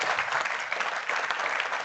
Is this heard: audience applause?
yes